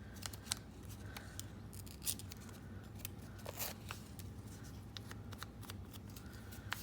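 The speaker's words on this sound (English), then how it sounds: "Actually, I'm going to cut off this straight edge." Scissors snip along a straight edge of paper, a steady run of crisp close cuts repeating over several seconds, faint and alone with a low background hum.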